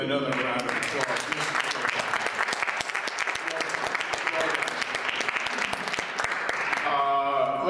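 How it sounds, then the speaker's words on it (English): Audience applause rings out for a performer on a live radio show, a dense, steady wash of many hands clapping that stays loud throughout before easing off near the end. "So let's please give him another round of applause"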